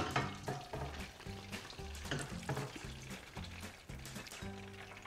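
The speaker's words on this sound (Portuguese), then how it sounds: "Vou então começar por saltear o bacalhau em azeite de alho" Cod sautéing in garlic olive oil for a bacalhau com broa dish, a steady crackling sizzle in the pan beneath background music, fairly quiet and continuous throughout.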